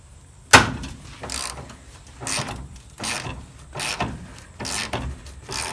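Ratchet wrench loosening a stubborn bolt while pulling the engine from a VW bus, a sharp initial crack followed by evenly spaced bursts of ratcheting clicks, close and fairly loud, with no talking.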